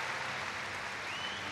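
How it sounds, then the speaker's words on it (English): Crowd applause in a gymnastics arena during a men's team final at the Commonwealth Games, a faint, steady wash of clapping heard from a distance for a brief moment. "You can hear the applause for Jake the local Jarman"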